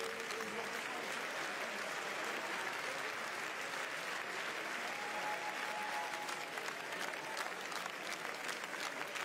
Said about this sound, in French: après de longs applaudissements très nourris à l'intérieur de la salle